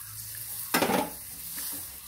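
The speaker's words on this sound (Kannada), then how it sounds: "ಹಾಲನ್ನು ಹಾಕಿ ಚೆನ್ನಾಗಿ ಮಿಕ್ಸ್ ಮಾಡಿ ಅದೀಗ ದಪ್ಪ ಆಗ್ತಾ ಹೋಗ್ತದೆ" Milk poured into heated maida flour in a pan and stirred: quiet scraping at first, then a short louder burst of splashing and spoon-on-pan stirring, settling back to soft stirring.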